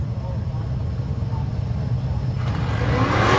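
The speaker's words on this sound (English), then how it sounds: "Yeah, there's some horsepower there, huh? That car sounds nice, doesn't it?" An off-road race car at the 4WP Every Man Challenge qualifying accelerating onto the course, a low engine rumble that swells and rises in pitch toward the end, with people talking over it.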